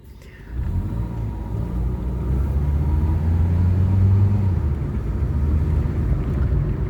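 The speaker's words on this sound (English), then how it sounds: "See, there's another car now." A car passes along a road near power lines and a river bridge, its engine rumble swelling loud and close before easing off slightly, with steady low road noise throughout.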